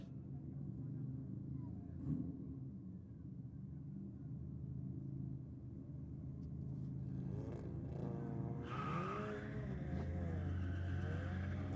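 A Ford wagon and a VW launch side by side at a drag strip night, engines rumbling then rising in revving sweeps as they pull away, with a commentator talking over the roar.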